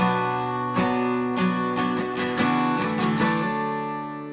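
A short acoustic guitar chord change for a pop country pre-chorus, several strummed chords in quick succession ringing alone before fading, no talking.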